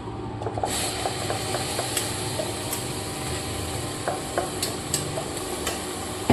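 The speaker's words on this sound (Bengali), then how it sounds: "অল্প তেলের মধ্যে বানাবো এটা, তার জন্য ওটা অ্যাড করে দিচ্ছি পেঁয়াজ কুচি" Chopped onion fries in a little oil for an egg curry, giving a moderate, close sizzle with light stirring taps and scrapes scattered throughout.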